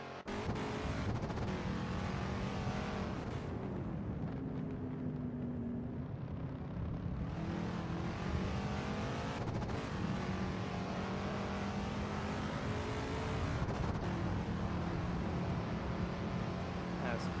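A race car engine drones steadily throughout an onboard lap at Jerez, the pitch rising and falling through gear changes and corners, loud and continuous, with a voice talking over it.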